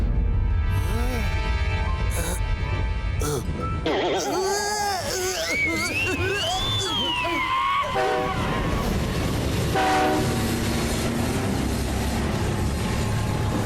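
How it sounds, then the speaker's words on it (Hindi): An animated cartoon train rumbles along with whistle and horn-like tones, mixed with voices and other cartoon sound effects, loud and busy throughout. "वो देखो अपनी ट्रेन।"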